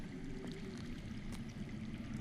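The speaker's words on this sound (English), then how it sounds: "I hear water. From underground." Underground water flows steadily in Game of Thrones, a continuous low rushing murmur under the ambient scene, with no one talking.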